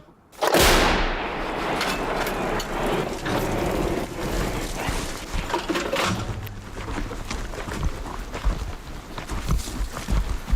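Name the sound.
howitzer cannon firing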